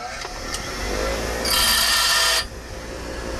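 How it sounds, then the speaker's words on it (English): A bench grinder grinds scrap metal to test for brass, a loud high-pitched screech lasting about a second over a steady motor hum. "The grinder sits out here all the time, so just turn on the power"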